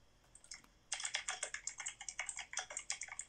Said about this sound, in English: You guys can hear my very loud keyboard.